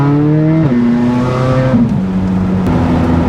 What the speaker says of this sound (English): exhaust works, doesn't rattle, doesn't bang, doesn't fall apart